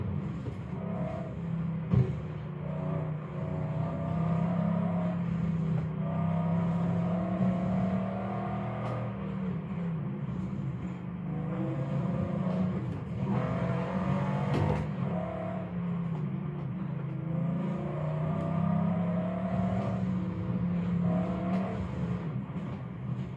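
A Mercedes G65 AMG driven in the racing game Forza Horizon 4 gives a continuous, steady engine drone with rising and falling tones as it accelerates and cruises, with no talk over it.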